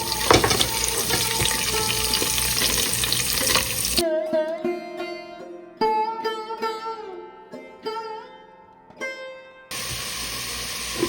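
Green chilies and curry leaves crackle loudly in hot oil while an egg curry is being made, a dense close sizzle that drops away into tonal music midway and then returns at full strength.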